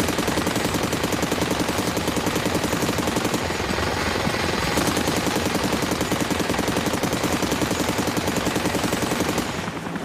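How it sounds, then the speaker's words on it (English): Heavy automatic gunfire in a jungle firefight during a helicopter raid on a camouflaged cocaine lab: continuous, rapid, close bursts that are loud and unbroken throughout, with no voices. "Then there's incoming fire and the Junglers respond."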